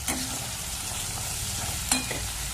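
Spice masala of cumin and coriander frying in a pan with a steady low sizzle, broken by a couple of brief scraping stirs near the start and again just before the end; no voices.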